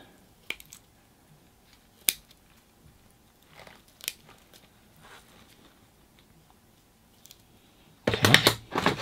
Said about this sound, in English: I may have to come in with my little scissors